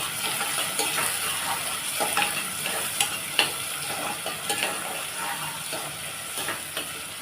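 Finely chopped onions sauté in a pan for chicken kurma, a steady sizzle with occasional clinks and scrapes of a spoon stirring, close and continuous with no talking.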